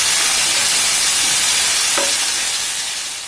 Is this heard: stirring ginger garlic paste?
yes